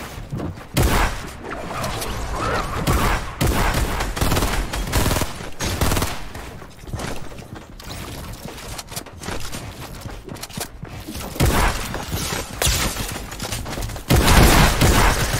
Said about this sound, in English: I was using a silencer instead of what I was supposed to be using, which was the assault rifle